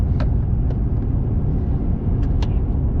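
Oncoming cars pass on a rural backroad along the Elkhorn Scenic Byway near Ukiah, Oregon, their steady low road rumble filling the clip beneath a few brief faint higher ticks.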